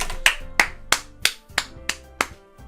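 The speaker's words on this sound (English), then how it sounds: "I'm the first to start applauding." Applause in the video game Doki Doki Literature Club plays as eight crisp, evenly spaced claps, loud and close, with no talking over them.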